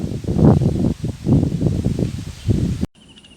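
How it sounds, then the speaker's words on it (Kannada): Cyclone Tauktae wind sweeps through garden plants, with gusty rustling of leaves rising and falling in several close bursts before cutting off abruptly near the end. "ಗಾಳಿ ಸ್ಟಾರ್ಟ್ ಆಯ್ತು ಈಗ"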